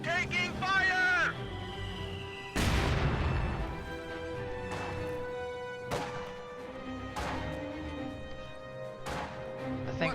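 A rifle grenade bursting in Company of Heroes 2, a loud crashing blast with a long rumbling tail over game music and battle noise, followed by further sharp cracks and impacts.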